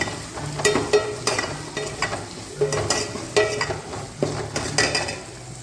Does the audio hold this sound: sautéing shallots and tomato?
yes